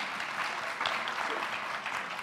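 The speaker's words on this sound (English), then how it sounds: "Go ahead, clap." Lecture-hall audience at a speakers' innovation panel giving dense, steady applause, a continuous wash of many hands clapping at moderate volume with no voices on top.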